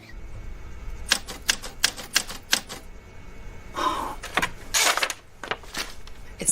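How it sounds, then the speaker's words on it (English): Typewriter keys struck in quick irregular bursts, each clack sharp and close, with a heavier run of strikes and a carriage-like rasp midway, no voices over it. "Does your family own a typewriter?"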